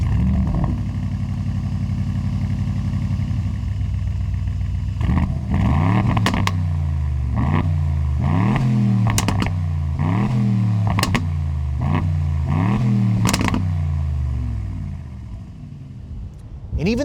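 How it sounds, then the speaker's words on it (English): A 2025 Aston Martin Vantage with an AMG V8 and a uniquely tuned exhaust cranks and fires up about five seconds in, then blips through a series of sharp, loud revs that rise and fall in quick succession, close by, before settling toward idle. "let's go ahead and fire it up. You guys can hear how that AMG V8 sounds in an Aston."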